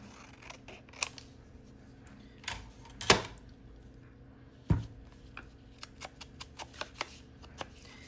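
Sharp crisp snips and paper rustles come in irregular bursts as scissors cut paper while a Little Golden Book is turned into a journal, two louder snaps standing out among quieter clicks and no talk.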